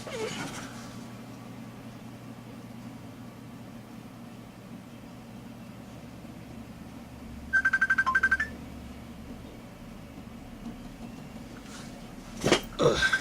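A mobile phone ringtone goes off, a short burst of bright repeating tones around the middle, then brief further blips near the end over steady background hum.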